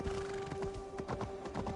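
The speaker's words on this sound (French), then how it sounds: "Allez, petit cheval, Run for life, petit cheval." Horse hooves trotting in the video game Assassin's Creed Valhalla, a steady run of quick clip-clop beats over a constant background drone, with no talk.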